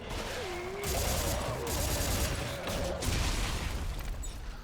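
Rapid grenade launcher fire and detonations in Dead Space 3, a dense run of booming shots and mechanical clatter, fairly faint and sustained, with a voice talking over it in places.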